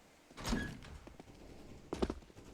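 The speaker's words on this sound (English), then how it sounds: "just going to draw attention towards the squeaky door" A squeaky door in Counter-Strike on the map Cache swings with a thunk and creak, followed a moment later by a second louder burst of knocks and scraping, heard at a middle distance in a game mix.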